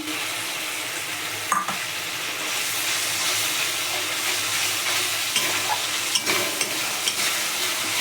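Cashew and poppy seed paste sautéing with spices in oil for a paneer dish, a steady dense sizzle with occasional scraping stirs, close and continuous with no talking.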